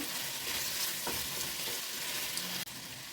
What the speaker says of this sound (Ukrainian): Поки смажиться цибулька, чесничок, м'ясо.